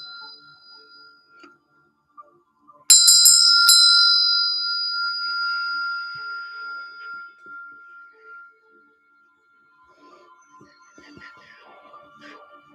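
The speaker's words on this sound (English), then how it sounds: "I'm going to chime a bell" A bell is struck once and rings out clear and bright, its tone slowly fading over several seconds in a quiet room, with faint small sounds before and after.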